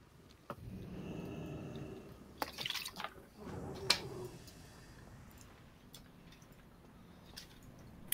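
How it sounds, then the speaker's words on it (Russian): Someone drinking water, with faint gulps, drips and small liquid sounds at close range in a quiet room. "Кто там воду пьет?"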